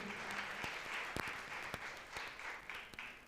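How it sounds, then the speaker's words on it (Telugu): A church congregation breaks into sustained applause, a dense wash of many hands clapping at moderate distance, with a few sharper individual claps standing out. "చప్పట్లు కొట్టండి వాళ్ళందరి కొరకు"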